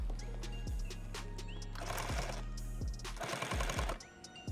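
An industrial sewing machine stitching gear for a rifle case runs in loud, steady bursts with repeated low mechanical thumps and rattling, pausing and restarting several times.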